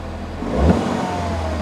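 A 2008 Mini Cooper S with a turbo boost fault runs close by, its engine swelling in a short rev before settling back to a steady idle hum.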